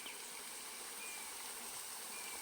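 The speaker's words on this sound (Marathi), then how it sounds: "मस्त बाई पाणी वाहतंय." A stream flowing in the countryside near a farmhouse, a steady broadband rush of water with no breaks, fairly close and moderately loud, without voices.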